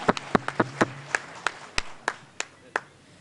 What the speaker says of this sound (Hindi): अच्छा लग रहा तो ताली तो बजा दो